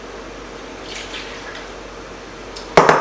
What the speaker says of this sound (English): So I'm just going to pour all of these wet ingredients into the bowl.